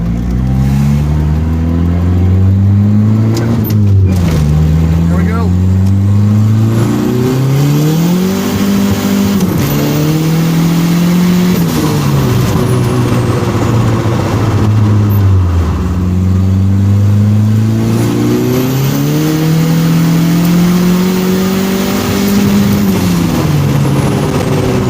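A Ford Probe GT engine with an HX35 turbo makes a loud, close, continuous roar on a boosted run. The revs climb and fall repeatedly as it works through the gears under heavy boost.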